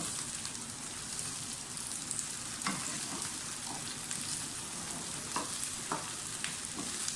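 Okra (bhindi) sizzles steadily in hot oil while a spoon stirs it continuously, with scattered scraping clicks over a constant fizzing hiss, close and moderately loud, no voices.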